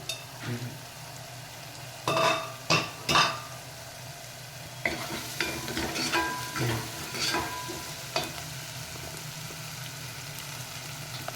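Sliced onions sizzle in a pan while a spoon scrapes and knocks against the metal in irregular bursts of stirring, a low steady hiss underneath, no one speaking.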